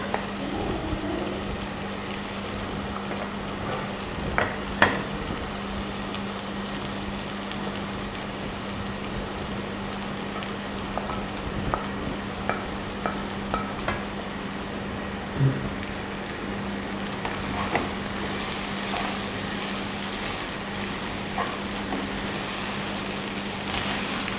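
Fish and drumstick leaf mixture stir-fries in a hot pan for a thoran, giving a steady, rain-like crackle with occasional sharp clicks of stirring throughout.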